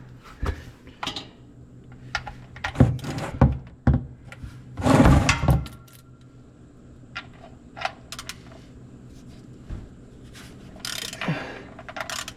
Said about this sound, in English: I've got me a 14 millimeter and a short little extension. Gonna pop the drain plug loose right here